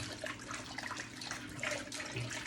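Lettuce being rinsed in a tub of vinegar water, soft continuous splashing and swishing of water up close, fairly quiet, with no talking.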